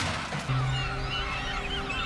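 Seabirds call over a busy waterfront scene, a short honking, squawking cry standing out near the start against a dense, rumbling background of wind and ambient noise.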